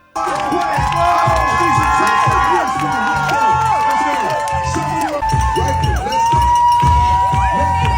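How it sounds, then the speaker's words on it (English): Spectators at the New York City Marathon finish, a loud, lively crowd cheering and shouting over continuous bright whistling and whooping tones, dense and close for the whole stretch, with voices calling out throughout. "People were just clapping and cheering, and there were smiles and hugs"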